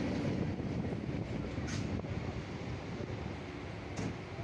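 A moving passenger train near Bandel in Hooghly, heard from beside an open door: a steady, loud rumble and rattle of wheels and carriages with rushing wind, continuous and without speech.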